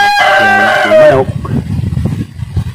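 A rooster crows loudly and close by on a farm during preparations for an approaching super typhoon in Lagonoy, Camarines Sur, its drawn-out call breaking off into softer clucking and rustling farmyard noise.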